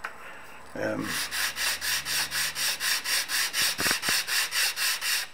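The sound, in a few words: cane reed being ground on sandpaper on a flat surface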